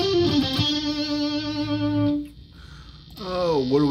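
Electric guitar played through a Seymour Duncan Tweak Fuzz pedal into a Fender '65 amp model, probably a ToneX capture. Sustained, buzzy fuzz notes ring out, then a short pause, then bent notes that waver in pitch.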